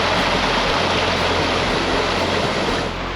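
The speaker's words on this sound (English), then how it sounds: "One last look back at the second waterfall" Three Sisters Creek tumbles over a waterfall in the Canadian Rockies, a loud, dense, unbroken rush of water close at hand, with no voices.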